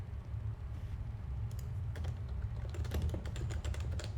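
Typing on a computer keyboard in a quiet room, first sparse and soft, then a quicker, denser run of close clicky keystrokes over a low steady hum.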